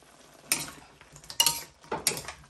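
A spoon scraping and clinking against a pan while pork ribs caldereta seasoned with garlic powder and pepper is stirred, three distinct scraping strokes close up with no talk.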